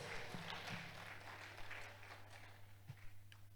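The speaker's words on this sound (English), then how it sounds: "another resounding round of applause" Faint, steady applause from a cybersecurity conference audience, a soft wash of clapping with a low hum underneath and no voices.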